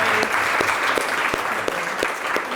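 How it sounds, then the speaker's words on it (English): A live speaker-event audience claps steadily in a close, sustained round of applause with sharp individual claps standing out. "Let's give her a round of applause."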